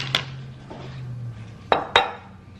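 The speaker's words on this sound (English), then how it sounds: "I'm also going to cut a lemon and add a little bit of lemon to my pico de gallo" A knife cuts a lime on a board for pico de gallo, giving two sharp close clacks near the end after a light tap, over a faint background hum.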